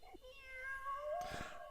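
A cat meows once in an anime episode, a drawn-out, plaintive, rising and falling cry that is clear but quiet and followed by a brief rustle.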